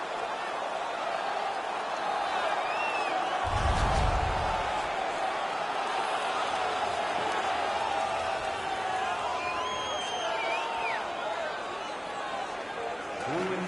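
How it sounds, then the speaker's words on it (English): A hockey video game crowd roars in a steady, dense wash of cheering and chatter throughout, swelling briefly, with a low rumble near the start and whistle-like tones drifting above. "The crowd is all over them right now."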